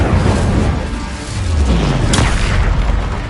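A Confringo blasting spell exploding in Hogwarts Legacy, a loud, deep boom with a sustained rumbling roar and a sharp crackle partway through, with no voices.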